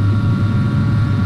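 Airliner engines spooling up for takeoff roll in a flight simulator, on the runway for a flight from Atlanta to Cincinnati: a loud, steady, droning rumble with a constant low hum, continuous and alone.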